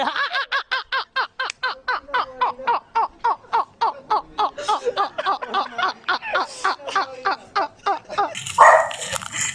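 A dog barks rapidly and steadily, dozens of sharp nearby barks in a fast rhythm, ending with a brief noisy rustle.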